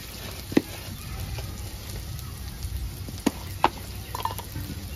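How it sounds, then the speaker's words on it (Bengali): Onions fry in a pan, browning with a soft continuous sizzle, broken by a few sharp clicks and taps of a utensil stirring against the pan, close and without talk. "পেঁয়াজটা একটু ভালো করে বাদামি কালার করে ভেজে নেব"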